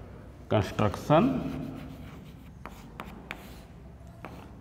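Writing on a board during a maths lesson on circle constructions, a few quick scratchy strokes and taps of chalk or marker, close and crisp, with a voice speaking briefly at the start.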